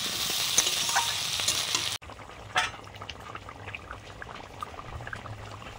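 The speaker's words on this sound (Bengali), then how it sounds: "সঙ্গে আলু একসঙ্গে কষে নিচ্ছি।" Bitter gourd and potato sauté together in a pan, with a bright sizzle followed by repeated spatula scrapes and stirring over a continuous frying hiss.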